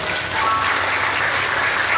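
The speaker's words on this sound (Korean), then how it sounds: "다시 한 번 더 박수 부탁드릴게요" A crowd applauds steadily at a wedding hall, a dense, continuous wash of many hands clapping in a large room.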